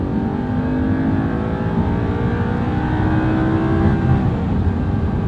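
Audi R8 engine held at high revs in sport mode, a loud, continuous close-up roar with rising and falling tonal whine throughout.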